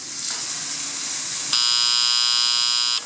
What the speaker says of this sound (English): Check the alarm.